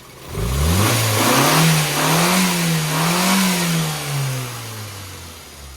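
A car engine fitted with a rebuilt HIF38 carburettor runs close and loud, revving up smoothly, holding a steady mid-pitched drone with gentle rises and falls, then easing back down, with no talking.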